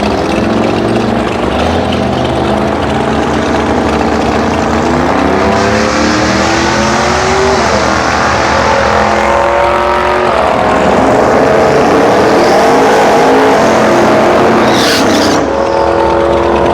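Race cars at a track day during Rocky Mountain Race Week lap loudly and continuously. Layered engine drones rise and fall in pitch as the cars pass, near and powerful for the whole stretch, with a brief sharp burst near the end.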